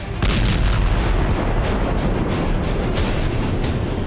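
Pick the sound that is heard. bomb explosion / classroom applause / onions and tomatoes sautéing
bomb explosion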